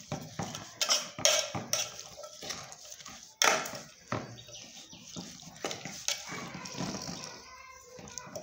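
A spoon stirs koshimbir salad with salt and yogurt in a bowl, giving uneven clinks and scrapes against the dish with a few sharper knocks, close and fairly loud, with no talk.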